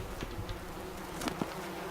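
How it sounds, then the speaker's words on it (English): Insects buzz through the air in the video game White Night, a steady low drone with a few brief louder passes near the middle, faint and continuous throughout. "There's bugs in the air."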